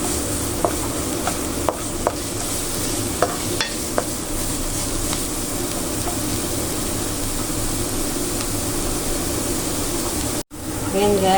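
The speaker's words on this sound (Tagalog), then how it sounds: "gisa na natin yung ating sibuyas" Onions sauté in a pan for a minced-pork omelette, giving a steady, close hiss of frying with a few light scrapes and taps of a spatula early on, ending with a brief clatter.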